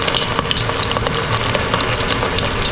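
Marinated chicken wings frying in bubbling hot oil, a loud close crackle and sizzle with sharp spitting pops scattered throughout.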